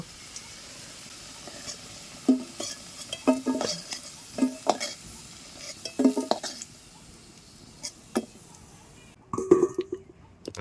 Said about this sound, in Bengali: দেখো আলু ভাজা হয়ে গেছে এবার তুলে নেব